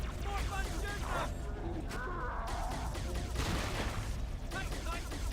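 Video game gunfire, continuous rapid bursts of shooting blended with game effects and someone talking over it.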